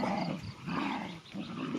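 A puppy growls in low, rumbling bursts close by, with brief pauses between the growls, outdoors on a vegetable farm.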